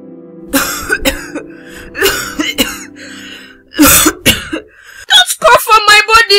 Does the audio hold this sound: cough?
yes